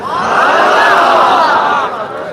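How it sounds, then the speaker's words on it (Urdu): A vast crowd of devotees gathered on Shab-e-Barat night for a religious address roars together in a loud, sustained swell of massed voices that tapers slightly at the end. "یہاں پر جو ٹھاٹے مارتا ہوا انسانی ہجوم ہے"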